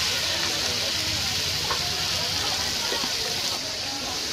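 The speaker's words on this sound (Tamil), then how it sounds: "நல்லா போட்டு வதக்கிக்கோங்க மட்டனை" Mutton frying in a pan with onion-tomato paste, turmeric and salt gives a dense, continuous sizzle with occasional stirring sounds throughout.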